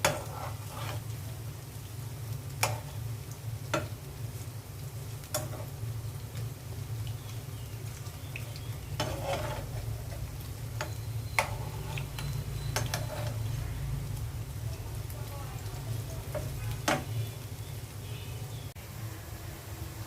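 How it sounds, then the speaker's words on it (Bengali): Bora fish fritters fry in oil in a frying pan, giving a steady hiss with scattered sharp crackles and pops over a low, constant hum, and no one speaks. "বড়াগুলো উল্টে দিচ্ছি।"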